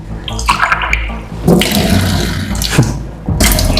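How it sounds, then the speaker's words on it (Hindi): Water sloshes and splashes loudly and close by, in bursts of irregular spilling and pouring that run through the whole moment with no voices. "पानी भी छलक रहा है"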